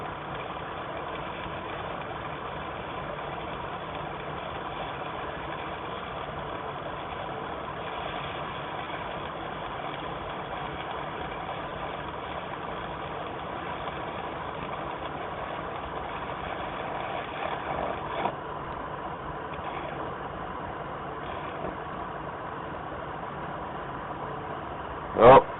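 A welder runs a bead along the toe of a previous weld, giving a steady, low crackling buzz that stays even and continuous, with faint background hum and a sharp knock at the very end.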